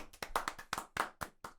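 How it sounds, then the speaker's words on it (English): Hands clapping in a quick, slightly uneven run of about ten sharp claps, close and fairly quiet, with no talking over them. "Everybody clap your hands."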